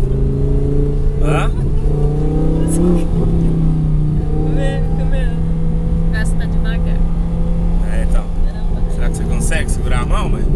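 An Audi R8 engine hums steadily and loudly from inside the cabin under constant road and wind noise, while people talk and laugh over it throughout.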